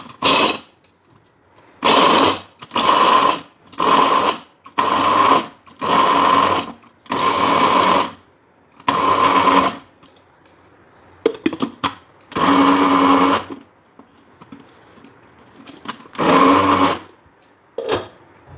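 An electric grinder whirs in loud, close bursts as it grinds nuts and other ingredients for panjeeri, running in repeated pulses of a second or two with short pauses between them, then in a few longer runs.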